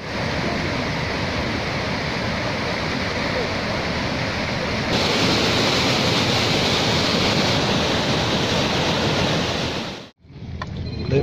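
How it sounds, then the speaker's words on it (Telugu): Water released from a reservoir pours into the Kakatiya Canal near Karimnagar with a loud, continuous roar and some wind buffeting, then drops off abruptly near the end to a quieter, thinner flow. "రిజర్వర్ నుంచి దిగువకు నీటిని విడుదల చేశారు"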